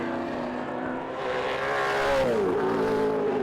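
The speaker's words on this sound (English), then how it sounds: "Rob Burns goes through on the Mustang of Zizak" A Ford Mustang historic touring car races past at Sandown Raceway, its V8 roar rising and then dropping in pitch as it sweeps by, loud and sustained, with no talk over it.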